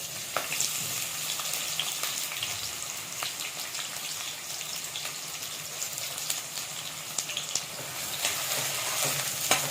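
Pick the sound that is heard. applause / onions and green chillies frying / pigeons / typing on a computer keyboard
onions and green chillies frying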